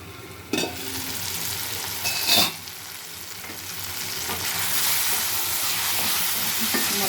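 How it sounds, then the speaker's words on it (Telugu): Drumstick pieces frying in a covered pan with turmeric and chilli powder, giving a steady close sizzle throughout, with a couple of brief clatters near the start and a slight rise in hiss toward the end. "ములక్కాయ ముక్కలు కూడా వేగినాయి."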